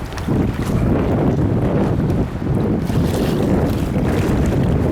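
A small experimental boat with a modified hull rides out at sea, water slapping and rushing against it under heavy, continuous wind buffeting at close range.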